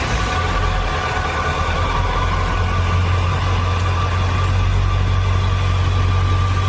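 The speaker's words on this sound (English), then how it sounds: "It sounds like a stock truck." A 7.3 Powerstroke diesel truck engine idles with a loud, steady, low rumble that holds constant throughout.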